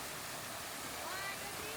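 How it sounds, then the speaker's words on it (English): A man-made waterfall at a Metro Manila attraction gives off a steady, even rush of falling water. It sounds moderately distant and stays continuous throughout the short stretch. "The first thing that immediately caught my eye was this man made waterfall."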